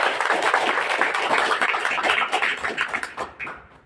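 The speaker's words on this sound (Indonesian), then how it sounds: "Kita boleh tepuk tangan yang meriah untuk Telkomsel Connect." An audience at a Telkomsel Connect festival event bursts into dense, crowded clapping, a steady wash of applause that stays strong before thinning into a few scattered claps at the end.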